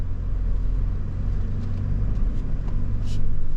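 A 2024 Toyota Land Cruiser climbs over rock formations off-road, its engine a steady low rumble with road-vehicle drone throughout, continuous and fairly close, with no one speaking.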